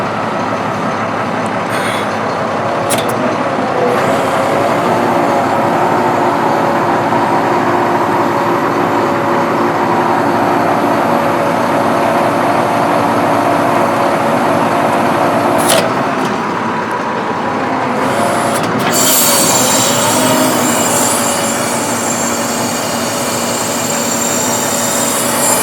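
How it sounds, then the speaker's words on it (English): The hydraulic boom of a bucket truck aerial lift runs from its lower controls, giving a loud, continuous mechanical drone with a brief clunk midway and a rise in hiss near the end. "as you're running the boom, listen for any weird noises"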